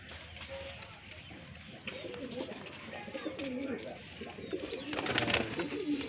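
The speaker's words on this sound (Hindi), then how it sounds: "दोस्तों ये गिफ्टेड कबूतरी है" A highflyer pigeon from Bareilly coos in low, rolling, soft calls close by, while people talk quietly underneath.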